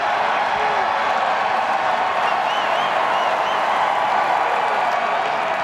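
A dense, roaring stadium crowd at a college football game between Mississippi State and Arkansas cheers steadily for the backup quarterback, a loud, continuous wash of voices and applause with no break.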